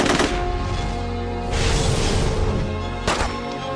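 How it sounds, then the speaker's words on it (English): Gunfire as Trancers open fire in a film scene, three loud, dense bursts of shots and impacts over a rumbling, busy soundtrack, close and heavy. "trancers pop up and start shooting"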